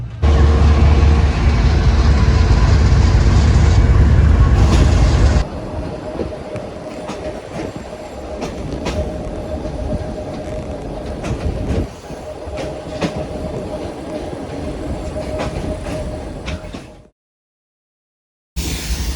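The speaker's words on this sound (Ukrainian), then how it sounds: "Ми очікуємо свій дизель поїзд на Яремче." A diesel passenger train on the line to Yaremche rolls past, first as a loud heavy rumble, then as steady clickety-clack of wheels over rail joints with faint squeals, before stopping abruptly.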